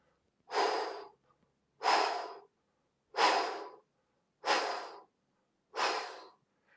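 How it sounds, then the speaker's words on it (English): Five quick, even breaths, each drawn in through the nose and blown out hard, spaced about a second apart with short silences between them, close and alone. "Let's make it a little bit quicker now. So breath in and just do 5."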